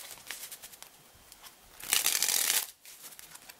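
An Art of Play deck of playing cards handled up close, with light papery flicks and ruffles that swell into a brief, dense riffle of cards before settling back to soft handling, with no talking.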